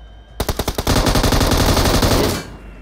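A few quick single shots, then a sustained burst of loud automatic gunfire in the PUBG Mobile battle-royale video game, close and sharp, cutting off abruptly near the end.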